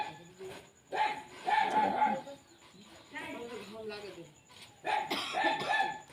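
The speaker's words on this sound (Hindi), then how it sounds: "जब तक ब्लाउज का वीडियो बने तब तक कुत्ते बहुत भौंक रहे थे" Several dogs bark repeatedly in a home setting, with sharp, fairly loud calls clustered in bursts near the start and end, mixed in with voices talking.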